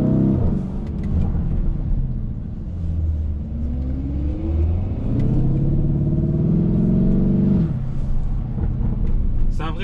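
A Lamborghini Urus drives on a hot day, its engine rumbling and rising and falling in pitch as it accelerates, close and steady, while someone talks in French over it.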